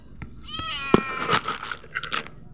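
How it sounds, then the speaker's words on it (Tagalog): A house cat meows repeatedly while being fed, with several clear, close meows spread over a couple of seconds amid faint handling noises. "Ngayon papakain ko yung pusa ko."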